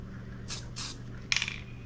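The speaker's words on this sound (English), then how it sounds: "I will spray over here just to be safe" Three quick hissing bursts from a spray paint can, used to underlay painted planets. The last burst ends in a small metallic rattle, and the bursts stand alone over a quiet background hum.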